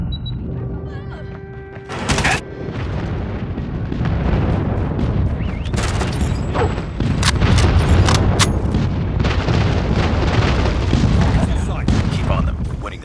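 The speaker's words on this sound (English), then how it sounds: "Friendly airstrike incoming." Airstrike explosions in Call of Duty Mobile multiplayer: a sharp blast near two seconds, then a dense, continuous barrage of booming detonations and gunfire rolling loudly on to the end.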